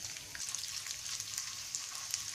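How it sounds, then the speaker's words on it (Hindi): Mustard seeds, cumin, urad dal and asafoetida tempering in hot oil in a heated pan for sooji upma, a steady, close crackling sizzle with tiny popping spits throughout. "यहाँ पर हम तड़का लगाएंगे"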